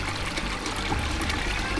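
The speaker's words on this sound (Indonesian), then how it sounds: "langsung ke sini airnya ngalir" Water running into a river channel, a continuous trickling, pouring flow that stays steady and fairly close throughout, with no clear talking over it.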